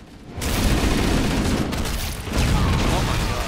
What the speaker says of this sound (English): It must have blew up some nades